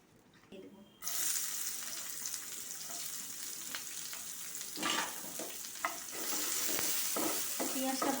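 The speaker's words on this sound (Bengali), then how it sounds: "পেঁয়াজটা ভাজা হতে থাক" Sliced onions sizzle in hot mustard oil in a wok, a steady bright crackle after a quiet start, broken by a few scraping stirs and clinks of the spatula.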